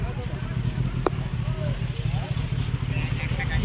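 A superbike engine idles nearby amid a crowd, a steady low throbbing hum that holds at even loudness throughout.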